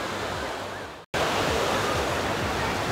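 Sea waves at Anapa beach wash in a steady, loud broadband surge, with a brief drop to silence near the one-second mark before the surf noise resumes.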